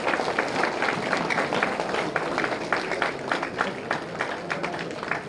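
An audience at a Maulana Abul Kalam Azad birth anniversary event applauds steadily, a dense wash of many hands clapping at moderate loudness with a faint voice beneath.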